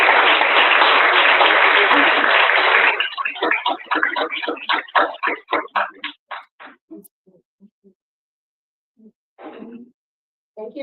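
Audience applause for a speaker at a symposium: a loud dense burst of clapping that breaks into separate claps, thins to a few scattered hands and fades, followed by brief faint talk.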